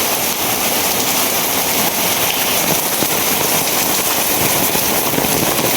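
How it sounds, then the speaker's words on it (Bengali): A loud, constant downpour of heavy rain fills the scene, a thick even roar of falling water with no pause. "বৃষ্টি তো খালি বাড়তেই আছে,"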